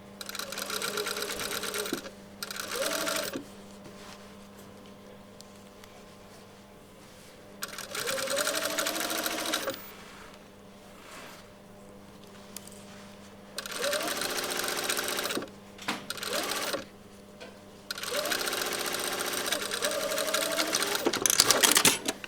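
A sewing machine stitches a shirt sleeve and side seam in several loud, whirring bursts of a few seconds each, separated by quieter pauses.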